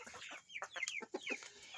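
Several chickens cluck and squawk in quick, overlapping bursts, close and fairly loud, with no talking.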